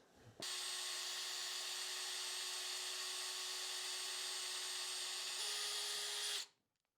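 A power drill bores the bridge earth hole through a guitar body into the electronics cavity, one steady whining run of about six seconds that shifts pitch slightly near the end before spinning down.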